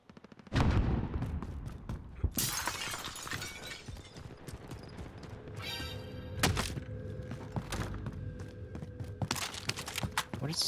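Dense video-game gunfire and explosions from an enemy assault, with repeated sharp shots, booming blasts and crackling debris nearly nonstop, loud and close throughout the whole stretch.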